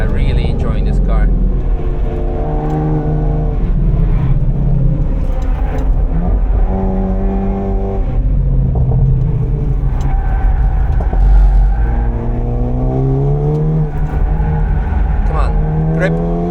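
A car engine revs up and down through gear changes as it is driven hard on the Nürburgring, the pitch climbing and dropping repeatedly, loud and close throughout.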